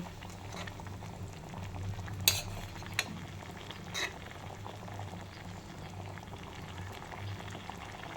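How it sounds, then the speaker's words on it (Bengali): Gravy with pointed gourds (potol) simmering in a pot, a soft steady bubbling hiss at low volume, with a few sharp clinks of a utensil against the pot. "হ্যাঁ, গ্রেভিটা একটু ফুটবে, তারপর এর মধ্যে একটু ঘি দেব।"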